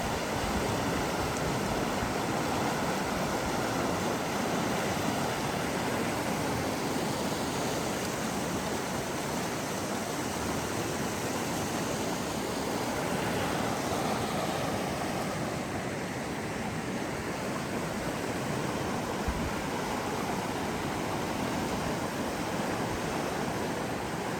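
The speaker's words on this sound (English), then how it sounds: "Raging and roaring national wildland scenic Deschutes River." Roaring white water of the wild and scenic Deschutes River rushes through a canyon in a steady, dense, full-bodied torrent that stays loud and unbroken the whole time, with no voices over it.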